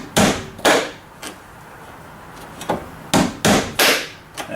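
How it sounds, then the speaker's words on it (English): Sharp hammer strikes during a G4 install where stainless steel pins are being fitted, several loud close blows in an irregular pattern with a pair near the start and a cluster toward the end, each ringing briefly against quiet background. "I'll get a hammer here and show you what we got going"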